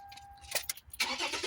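A new car's engine starting, with a brief cranking burst followed by the engine catching and running steadily close by; faint earlier sounds of handling and movement, no talking.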